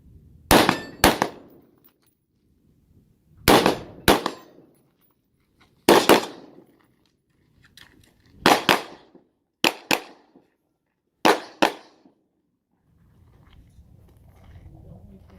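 Handgun shots at a training range demo, fired in quick pairs and triples, about seven volleys of sharp loud cracks spaced a second or two apart, with quiet gaps between.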